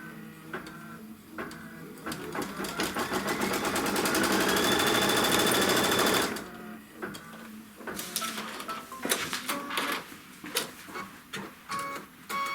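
A computerized embroidery machine stitches the trim line on a Kimberbell quilt block, a fast mechanical chatter that swells to a steady loud run for several seconds, then breaks into shorter bursts of stitching and clicks.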